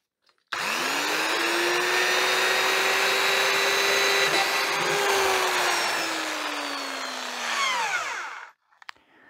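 An old two-speed power drill whines steadily for several seconds boring into wood, its pitch dipping slightly as it bites, then spins down and stops.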